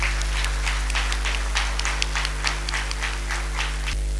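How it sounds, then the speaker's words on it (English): Audience applause at a school junior annual day function after the chief guest's address; moderately faint, scattered clapping that stays fairly even, with a strong steady electrical hum underneath. "Can we have a big round of applause?"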